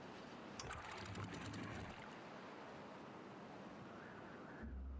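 Water flowing through an aqueduct in the video game Timberborn, a steady rushing wash with a brief splashy burst early on, continuous and fairly loud, ending with a low rumble.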